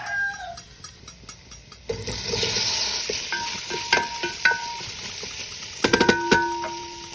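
Pork goes into a pot of toasted garlic and onion for kare-kare, with steady sizzling frying and scraping stirring strokes. Sharp clinks of a utensil on the pot come through close up, and no one speaks.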